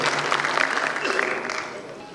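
Audience applause at an international Kavi Sammelan and Mushayara poetry gathering, a sustained dense wash of clapping that holds steady and fades slightly at the end, with a voice faintly audible underneath.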